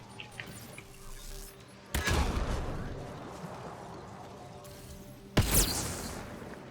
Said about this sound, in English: Watch the grenade!